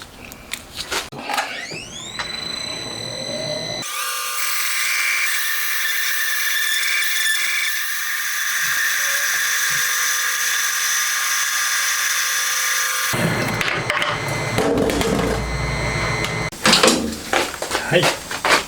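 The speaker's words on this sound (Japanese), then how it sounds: "これでテーパーの穴開きましたね" A drill cuts a tapered hole in a plastic cap for a Honda Monkey motorcycle engine, giving a steady whining drone of about nine seconds that is framed by clattering handling sounds and some talk.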